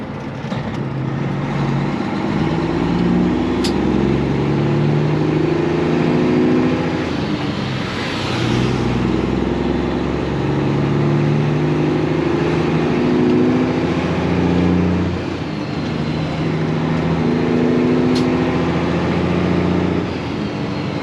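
A truck engine runs steadily and loud throughout, with a sustained drone and slight rises and dips in pitch as it shifts smoothly through the gears.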